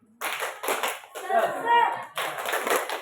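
Classroom students clapping a rhythmic cheer together in short bursts, with a pause between groups of claps and lively, loud collective claps close to the listener.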